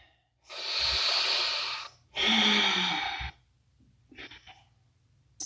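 Two long, breathy exhales close to the mic, roughly a second each, come back to back during a yoga twist, followed by a softer, shorter breath and quiet room tone.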